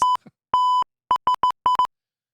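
Steady 1 kHz censor beeps cut in repeatedly, one long tone followed by several short bursts in an uneven, Morse-like rhythm, loud and clean against silence.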